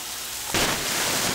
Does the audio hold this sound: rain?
yes